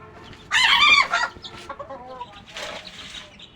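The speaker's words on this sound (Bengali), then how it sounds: "এই হচ্ছে আমার দেশি মুরগি।" A burst of loud squawking clucks from native desi chickens on a small poultry farm, followed by softer scattered clucks and calls, close by with no talking.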